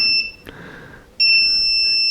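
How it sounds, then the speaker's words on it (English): High, piercing electronic SOS beeps from a Shell portable power station sound in short bursts with a brief gap between them, loud and close. "this will beep. It's an SOS."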